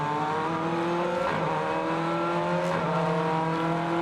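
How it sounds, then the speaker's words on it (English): A BTCC touring car at Donington Park GP rolls slowly back into the pit lane during wet qualifying, its engine a steady mid-distance drone that shifts in pitch a couple of times, with no talk. "So the car's still coming back into the pit lane"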